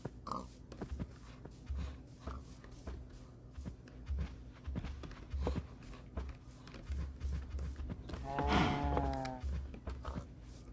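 Minecraft cows moo from a distance amid scattered clicks and taps, with one louder, drawn-out moo near the end.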